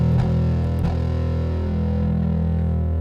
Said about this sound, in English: there's a knob on here that says sustain. It's actually, I think, just distortion.